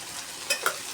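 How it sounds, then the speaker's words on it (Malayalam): Chili and coriander powder sizzle in a pan for chicken thoran, with quick spoon stirring strokes scraping over soft frying crackle in a brief close-up moment. "അതൊന്ന് ഇളക്കിയതിന് ശേഷം മുളകും മല്ലിപ്പൊടി എല്ലാം ഒന്ന് മൂത്തതിന് ശേഷം നന്നായി ഇളക്കി കൊടുക്കണം."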